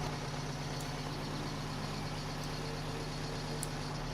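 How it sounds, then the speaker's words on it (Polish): A tractor engine in Farming Simulator 2013 drones steadily at a low, even pitch while working a field, a constant mid-level rumble with no breaks and no voices. "Ciągnik sobie bardzo dobrze radzi w polu."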